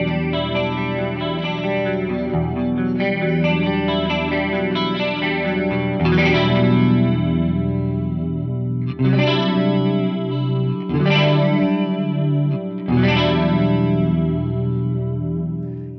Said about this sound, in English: I've got a chorus block in here just set to the digital mono type